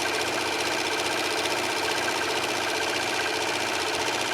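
Serger stitching and trimming lightweight scarf fabric, a close, loud, steady high-speed mechanical whir with fast rhythmic needle chatter running unbroken throughout.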